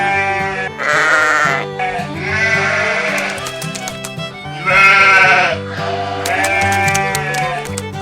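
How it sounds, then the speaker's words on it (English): Sheep bleat loudly and close up in several long, wavering calls, one after another with short pauses between them. "Here are the sheep,"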